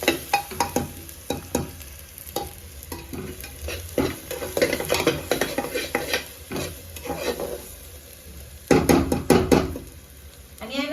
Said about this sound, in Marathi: आणि हे आता खोबरे आहे ना मी तेलामध्ये टाकते जेणेकरून खूप छान असं हे येतं